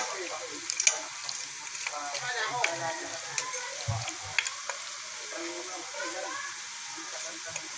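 Ginger, garlic and onion sautéing for chicken tinola, a steady sizzle with scraping stirs and small clicks in the pan while a person talks over it.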